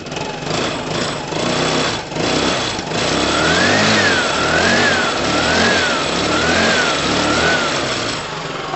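A Piaggio Typhoon 125cc scooter engine idles and revs loudly up close, with a steady buzzing drone, a rattling undertone and a faint rising-falling whine throughout.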